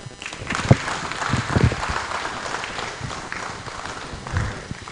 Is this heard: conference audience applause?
yes